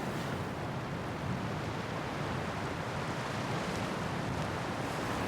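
Sea waves washing onto a beach, a steady broad roar of surf with wind buffeting the microphone, continuous and fairly close with no voices.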